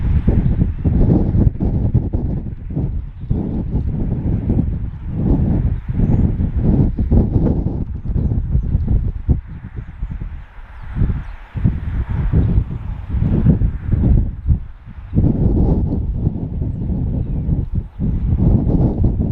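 Strong wind at the coast near Hayling Island buffets the microphone in loud, rumbling gusts that rise and fall continuously, with only brief lulls between bursts.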